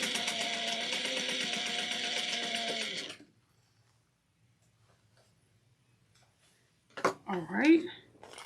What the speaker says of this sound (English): we're going to sew it at a 1/4 of an inch seam allowance